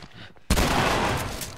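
A single loud gunshot in The Last of Us video game cracks out after a short quiet stretch, followed by a long rumbling echo that fades slowly.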